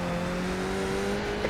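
A Skip Barber race car in iRacing on the Adelaide street circuit holds a steady, loud engine tone with a slowly shifting pitch under braking toward a chicane, continuous and close.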